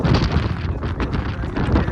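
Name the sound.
strong wind on Girnar mountain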